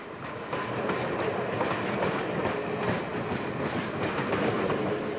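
Train in China rolls along the rails with a steady, loud rumble and a faint rhythmic clickety-clack of wheels on track joints, with no voices.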